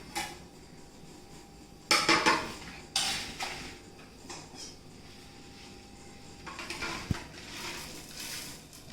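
Roasted chillies are moved from a pan onto a plate with a few sharp metallic clinks and scrapes of utensil on cookware, then quieter shuffling and a final tap, close by.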